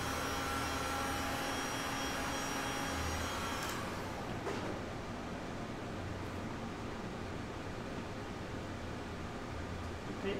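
A heat gun blows over fresh resin coasters, giving a continuous airy roar that holds steady throughout, close and without talk.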